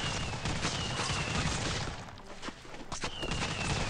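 A fireworks weapon fires continuously in the video game Swamp Attack 2, a dense, steady crackle of rapid pops and bursts over about four seconds, with a brief dip midway before it resumes.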